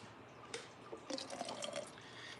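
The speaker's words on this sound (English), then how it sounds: "I did put a little water in at the end here." Water is poured into a smoothie: a short trickle and splash of liquid, moderately close, with a few drips before it, and no talking.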